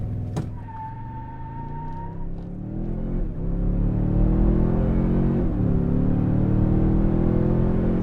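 A 2023 Toyota Sequoia launches with brief wheel spin and pulls hard, its engine rumble swelling into a loud, rising roar with upshift dips, heard up close from inside the cabin.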